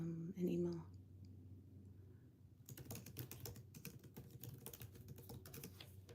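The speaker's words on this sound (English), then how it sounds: "please start typing up an email" Someone types an email on a computer keyboard, a quick irregular run of light clicking keystrokes that starts partway through, after a brief burst of voices, at low overall volume.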